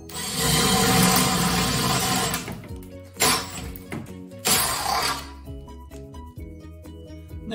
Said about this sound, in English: Go up to a bigger drill bit.